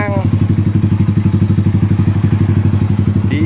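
A Yamaha Scorpio motorcycle idles close by at a petrol station, its engine a steady rapid thumping pulse throughout, loud and continuous with no talk over it.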